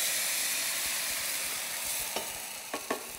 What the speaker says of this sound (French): On va baisser et on va rajouter un petit peu de bouillon de légumes.